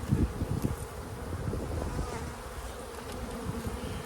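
Honeybees buzz around an open beehive during a frame inspection, a dense, close swarm drone with individual bees zipping past the microphone.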